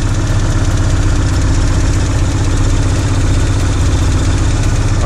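A Porsche 944 engine idles steadily after being restarted from long abandonment, a loud, close, continuous low rumble with a faint rhythmic pulse and no talk over it.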